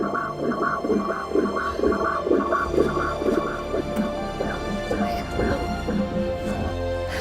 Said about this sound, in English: hears her son's heartbeat for the first time, keeping this man alive